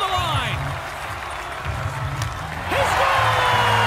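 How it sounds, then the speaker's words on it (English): A hockey arena crowd in NHL 21 roars steadily on its feet during an overtime penalty shot, with a broadcast commentator talking over the sustained cheer, which swells louder near the end. "The crowd on their feet."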